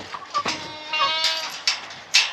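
A goat bleats in a garden or farm yard, with a couple of short, wavering cries close by, then a few sharp knocks or scuffs.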